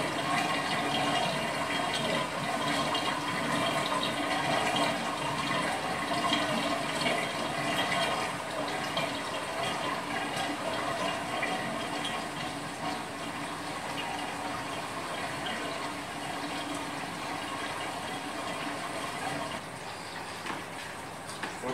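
Water rushing steadily through a reef aquarium sump driven by a return pump, a loud continuous gurgling flow with no pauses.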